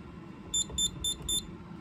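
Scantronic SC800 alarm panel sounding a zone alarm: four short, evenly spaced high-pitched electronic beeps over a low background hum, fairly close and distinct.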